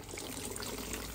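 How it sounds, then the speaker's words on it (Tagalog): Water drains steadily from a hydroponic lettuce container as it is released, a close, continuous trickling and pouring rush with no talk. "So ang gagawin po natin is i-release po natin yung tubig."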